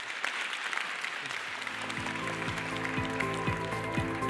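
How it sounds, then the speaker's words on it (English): Steady applause from a conference audience in a plenary hall, a dense wash of clapping that holds at an even level throughout. "I do invite our audience to join me in a round of applause for Minister Tung"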